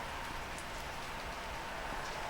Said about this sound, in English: We're being blessed by a little rain in the Black Hills today